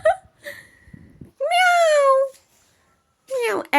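Cat meowing in a home: a short faint mew, then a long loud drawn-out meow and another rising meow near the end, with soft background sounds in between.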